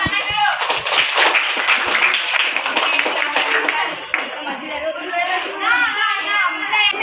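A classroom of schoolchildren claps hands together in a brisk, dense burst, then eases into scattered claps, with lively kids' voices chattering throughout.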